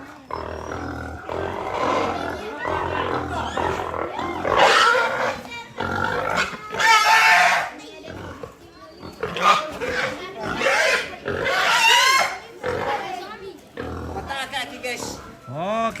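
Pigs squealing and grunting loudly during preparations for a Toraja wedding in Indonesia, with repeated shrill, rising bursts mixed with people talking nearby.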